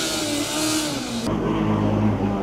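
A loud Formula Student combustion race car enters the autocross track, its engine revving hard and roaring steadily close by, with the pitch and tone shifting partway through.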